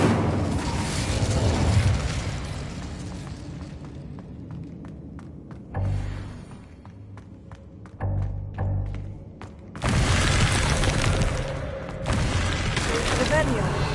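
A fire spell is cast in the video game Hogwarts Legacy, bursting out as a heavy booming whoosh over steady game music and ambience, followed by further thudding impacts.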